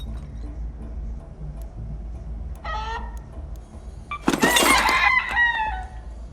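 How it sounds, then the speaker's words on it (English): Scrappy, a small rooster companion in a video game, crows once in a loud burst midway through, after a faint cluck; low game ambience hums steadily underneath. "Scrappy is a little rooster that essentially the idea is he runs around Speranza collecting loot for you"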